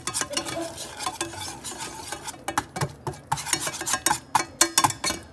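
A flour and butter roux being stirred in a pan, with a steady run of scraping, rubbing strokes and a light sizzle, close and fairly quiet, with no talk.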